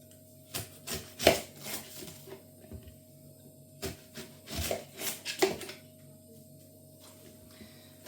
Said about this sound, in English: slice the onion up.